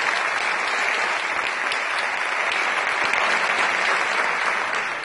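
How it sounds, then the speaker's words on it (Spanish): Steady, dense applause from an audience at a recognition ceremony for education, loud and sustained for about five seconds with no talking over it. "Un fuerte aplauso para ustedes."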